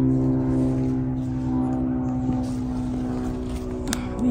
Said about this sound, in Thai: เสียงเครื่องบินตลอดเลย